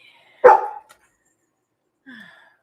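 Dogs in a home where books are being cleared off a desk: one loud, close bark, then a shorter, softer yip or whimper about a second and a half later, with near silence around them.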